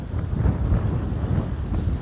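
Steady heavy wind buffets a phone's microphone outdoors on the Sardinian coast, a continuous low rumbling roar filling the whole stretch with no voices.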